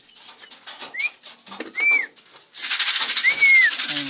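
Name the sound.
pigeons flapping as they enter the loft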